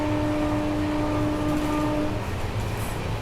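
Naharlagun Guwahati Shatabdi Express Vistadome train running at around 100 km/h, a steady loud rumbling roar of wheels on track with a faint whine underneath.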